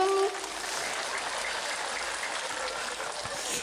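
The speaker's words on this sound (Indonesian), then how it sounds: "Tepuk tangan dulu dong" An audience at a humorous Islamic sermon gathering in Ponorogo claps together in sustained, even applause lasting several seconds after a brief vocal note at the start.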